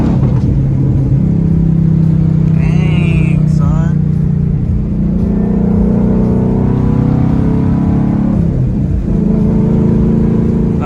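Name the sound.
Ford Mustang race car engine revving on track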